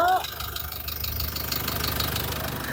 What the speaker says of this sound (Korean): 마지막으로 엔진 사운드 체크해 드릴게요